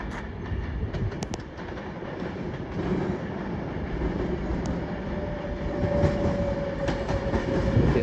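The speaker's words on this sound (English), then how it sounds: "Coming now is the 1323 Advantage West Coast service from Liverpool Lime Street to London Euston." A Class 390 Avanti West Coast passenger train from Liverpool Lime Street to London Euston passes through Crewe station on the West Coast Main Line, a loud rushing rumble with rail clatter building steadily, close by.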